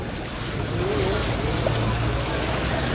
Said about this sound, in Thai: น้ำกำลังไหลค่อยๆไหลลงนะครับคุณผู้ชม